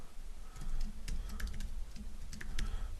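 Fingers tap on a computer keyboard in a brief burst of close, quick, irregular clicks over a quiet background with no talking.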